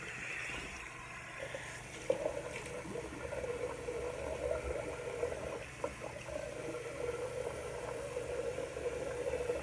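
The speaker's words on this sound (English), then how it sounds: "rinse your face off" Running water splashes during a face rinse after a straight razor shave with sandalwood products, a soft steady trickle with small irregular splashes, close and fairly quiet.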